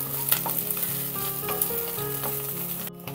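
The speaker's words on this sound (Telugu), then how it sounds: "మనం ఇలా ఆయిల్లో ఒకసారి ఫ్రై చేసుకుంటే ఇంకా మంచిగా ఫ్రై అవుతాయండి" Dried shrimp sizzle and fry steadily in oil in a kadai, with occasional stirring clinks over a continuous close crackle.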